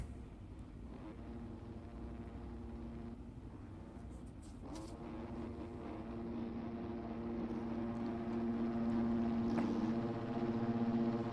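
Several supercross dirt bike engines revving together at the start gate in a stadium, heard at a distance, a droning buzz that swells louder and higher toward the end.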